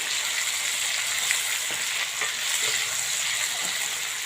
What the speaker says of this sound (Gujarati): ટામેટું હું બે મિનિટ આ જોડે શેકી લઈ ડુંગળી જોડે